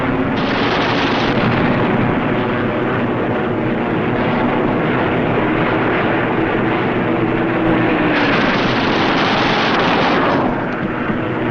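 Continuous .50 caliber machine gun fire during World War II aerial combat between US fighters and the German Luftwaffe, a loud, dense rattle blended with engine roar that runs steadily for several seconds on an old, band-limited recording.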